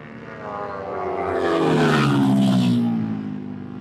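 Racing motorcycle at a supermoto race in Nepal passing by, its engine rising to a loud close peak midway and then fading, with no talk.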